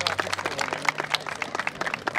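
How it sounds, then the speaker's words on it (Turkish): Wedding guests applaud after a 1000-lira money gift from the groom's brother is announced, a steady patter of many hands clapping at moderate volume with a low hum underneath. "Alkış."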